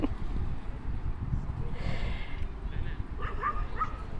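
Dogs bark and yip in the distance, a few scattered calls over a low rumbling background.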